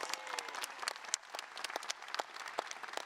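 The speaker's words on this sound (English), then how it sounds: "Give him another round of applause." An audience applauds a postal workers' union president at a union gathering, with a full, continuous patter of many hands and a few sharper, louder claps standing out above the crowd.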